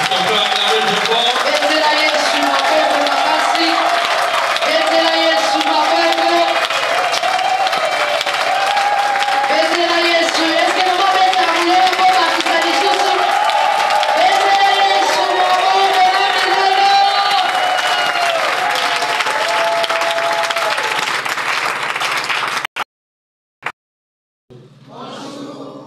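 A church congregation cheers and applauds to welcome a pastor, a loud, dense, sustained roar of clapping, whoops and crowd voices that cuts off abruptly near the end, followed by a few brief scattered sounds.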